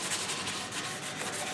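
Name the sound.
hand sanding a guitar body with 220-grit sandpaper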